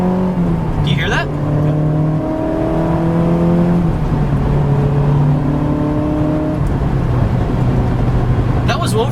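A 2004 Honda S2000 (AP2) engine revs hard with VTEC engaged and holds a high, steady roar, its pitch climbing and shifting in steps as the throttle stays open, loud and close.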